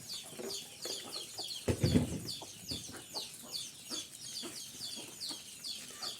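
Country chickens and chicks on an organic farm cluck and cheep in quick repeated calls, near and moderately loud, with a brief louder squawk partway through.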